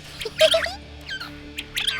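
Short, sharp Japanese quail calls in three bursts, a quick whistled phrase repeated against a quiet background with faint low hum.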